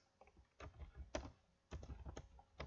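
Typing on a computer keyboard during web development work, quiet and close, with short irregular bursts of key clicks and a brief pause in the middle.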